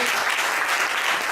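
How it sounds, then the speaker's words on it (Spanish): A church congregation applauding hard, a dense and loud wall of clapping that fills the space without a break, with no voice on top. "Dale un aplauso al Señor, muy fuerte."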